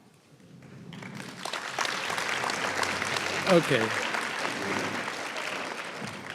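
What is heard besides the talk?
audience applause honoring school teams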